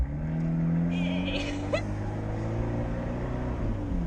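An Abarth 124 Spider's engine drones steadily while the car drifts, a loud sustained hum with rising pitch sweeps, a brief squeal in the middle, and a voice talking over it.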